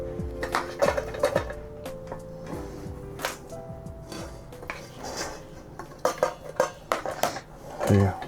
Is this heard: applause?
no